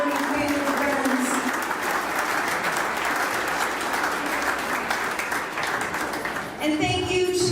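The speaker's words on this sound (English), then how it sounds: "Please give a round of applause to all of our working family friends." Crowd applauding at an election night event in Lincoln city races, a dense sustained clatter of clapping filling the room for several seconds, with a brief dip near the end and faint voices mixed in.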